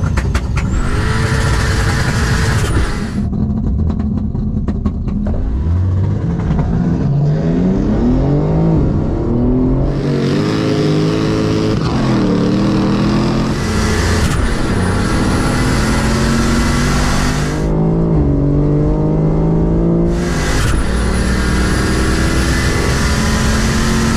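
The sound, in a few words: 5.0L V8 Opel Omega launching from standstill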